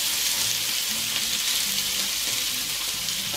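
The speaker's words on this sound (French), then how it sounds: "Là, je vais mettre l'huile d'olive chaude." Sliced cuttlefish frying in hot olive oil gives a steady, dense sizzle with a faint low rumble underneath, continuous and close throughout, with no voices.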